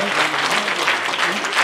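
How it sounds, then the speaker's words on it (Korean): Audience applause at a book launch and book concert in Sejong, a dense, even burst of clapping from a crowd, loud and close, with a voice speaking faintly beneath. "고맙다는 박수 한번 보내주시죠."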